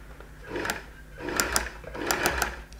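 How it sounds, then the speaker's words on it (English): Sewing machine stitching a bias binding bound seam, three short bursts of whirring, rattling stitching separated by brief pauses, close and clear. "it will be easier for it to grab it as it sews"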